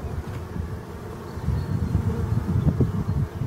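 Black honeybees of Brittany at a spring forest hive, a dense low buzzing swarm close by that swells louder halfway through, with no talking.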